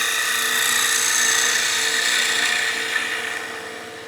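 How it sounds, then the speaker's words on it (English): A spindle gouge cleans up the surface of spinning wood on a lathe for a German smoker figure, making a loud, sustained rasping hiss over a steady motor whir that fades near the end. "go back to a spindle gouge just to clean up the surface"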